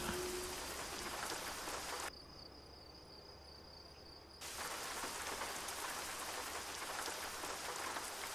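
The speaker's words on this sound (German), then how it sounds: "Von hier aus sieht man gar nicht mehr, dass es regnet." Steady rain patters in the truck-driving game Euro Truck Simulator 2, a dense hiss of drops that abruptly drops out for a couple of seconds mid-way before returning at full strength, with no talking.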